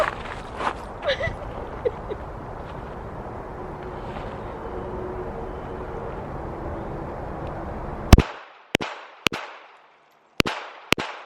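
Handgun shots fired at a target at an outdoor range, several sharp loud cracks in quick succession near the end, each followed by a short decay, after a stretch of low background noise with faint voices.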